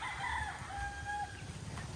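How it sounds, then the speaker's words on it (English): Chickens cluck and a rooster crows, a faint, somewhat distant call over steady outdoor background noise. "You can hear the chickens, they're excited for a new vlog."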